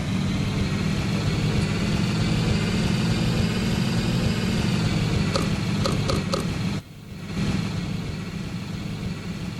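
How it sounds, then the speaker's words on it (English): A bus engine in a video game strains uphill, a loud, steady drone rumbling continuously, with a brief mechanical clatter near the end before the engine note drops and resumes. "my bus gets loud whenever I go up hills"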